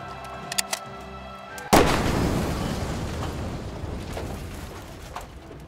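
A single gunshot in a Minecraft roleplay game lands as one sudden loud blast. A long, rumbling noisy tail follows and slowly fades, after a few faint clicks over quiet background music.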